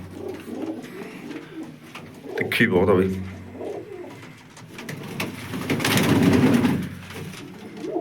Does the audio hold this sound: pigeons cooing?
yes